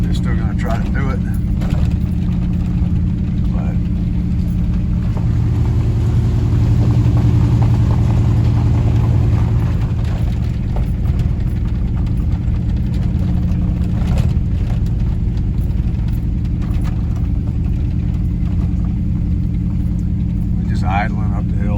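A truck engine idles slowly up a hill in the rain near Cacapon Resort State Park, a loud, steady low rumble that holds for the whole stretch, with voices at times over it.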